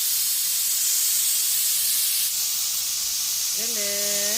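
A pressure cooker cooking chicken and mushroom curry, a loud continuous steam hiss that rises at the end into a shrill whistle.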